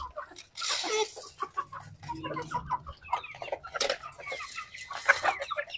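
Chickens cluck busily around freshly poured feed in a farmyard, a steady chatter of overlapping clucks and squawks from several birds, fairly close and continuous.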